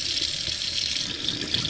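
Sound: tap water stream running into old sink drain

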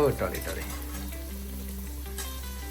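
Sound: onion added to hot oil with ginger and garlic, sizzling

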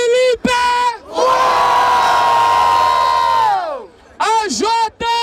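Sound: crowd cheering and making noise at a rap battle

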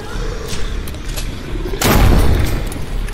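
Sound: shotgun firing in VR zombie shooter video game Propagation VR

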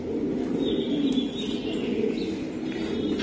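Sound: racing pigeon cooing

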